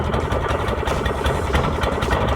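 A cold engine idles steadily after starting on a chilly 43-degree morning, a dense low rumble with a slight knock running at even loudness throughout.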